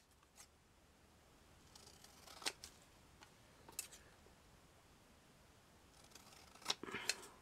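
Snipping cuts on craft material for a miniature seaside surfing shack, a few quiet, close scissor clicks spaced irregularly over a low background hiss.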